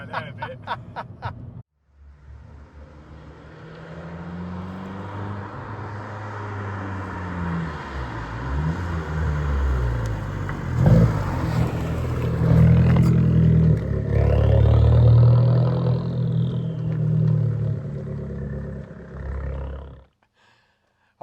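An Abarth 595 Competizione drives along, its engine note climbing and falling through revs at moderate loudness, with excited voices shouting and laughing inside the car before it cuts off.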